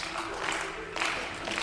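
Audience clapping at a 10m air rifle mixed team shooting final, a faint, steady patter of applause from a small crowd with a slight swell near the end.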